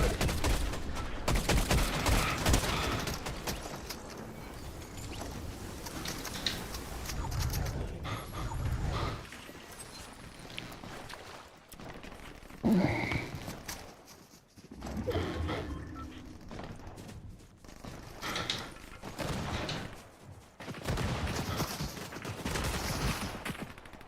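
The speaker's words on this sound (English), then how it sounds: "I'm getting shot from everywhere" Gunfire rattles in a Fortnite match, with bursts of rapid shots coming and going, some loud and close, others fainter, broken up by quieter gaps.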